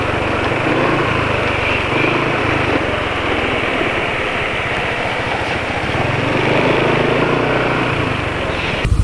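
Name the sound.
Dongfeng diesel engine revving then RPM dropping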